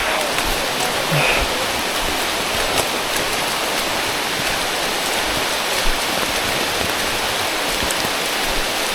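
Continuous rain pours on a slippery, dark descent of Gunung Luhur mountain, an even, dense hiss of falling water that holds steady and unbroken with no voices.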